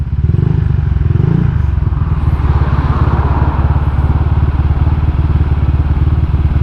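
A recently serviced motorcycle engine idles loud and close, with a deep, lumpy, evenly pulsing beat that stays steady throughout, with no voices.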